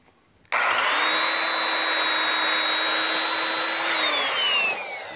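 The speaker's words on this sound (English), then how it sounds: "now that we have it debarked, we need to sand these notch down to where they look pretty." A power sander kicks on abruptly and runs with a loud, steady high whine while smoothing notches on a debarked cedar log, then the pitch sags slightly near the end.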